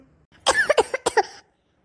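A girl with a cold coughs in a quick burst of several harsh, close coughs, then falls silent.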